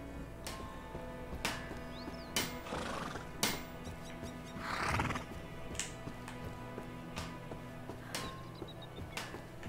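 Horse whinnies in the medieval stealth game A Plague Tale: Innocence, a couple of short breathy neighs mid-clip over a quiet ambient bed with faint hoof clops and ticks, no talking.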